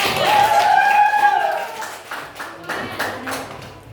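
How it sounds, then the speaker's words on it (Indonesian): Students in a classroom clapping their hands together: a brief patch of rhythmic claps following a voice, close and fairly loud. "Tepuk tangan dulu untuk"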